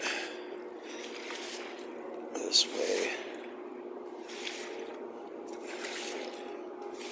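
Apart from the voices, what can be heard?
broom pushing water across courtyard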